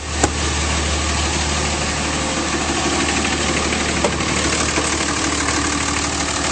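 A 2007 Dodge Ram 2500 5.9L diesel engine idling steadily and close by, a constant low rumble with a couple of faint clicks, no talking.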